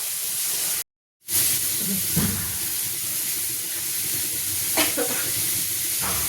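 Fish frying in hot oil, a steady soft sizzling hiss that runs throughout, with a brief dropout near the start and a few faint clinks and stirring sounds.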